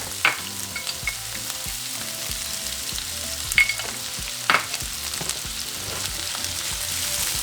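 Onions frying in olive oil in a pan, a steady sizzle running the whole time with a few louder stirring scrapes and pops partway through, close and with no voices.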